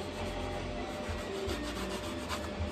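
Paint being worked and rubbed into a dome piece for an R2-D2 model, giving a steady soft scuffing and rasping with low thumps, fairly close, no voices.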